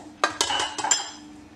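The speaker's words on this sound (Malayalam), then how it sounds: "ഇനി നമുക്ക് കേക്ക് ഒഴിക്കാനായിട്ടുള്ള കേക്കിൻ്റെ ട്രേ എടുക്കാം" Metal cake baking tray, meant for baking in a pressure cooker, handled and set down, giving several sharp metallic clinks and clatters in quick succession, close and fairly loud, with no talking.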